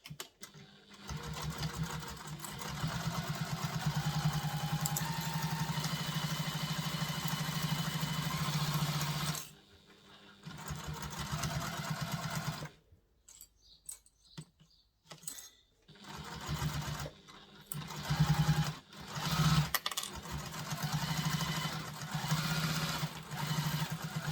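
A sewing machine bastes a pocket onto a diaper bag in long steady runs of rapid mechanical whirring, close up, stopping for a clear pause and then starting again in short bursts and longer stretches.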